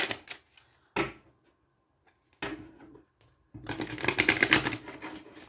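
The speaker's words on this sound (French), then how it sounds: "Je vais mélanger un petit peu mes cartes." Tarot cards shuffled by hand up close, heard as brief papery riffles and slaps in separate bursts, ending in a longer, louder shuffle.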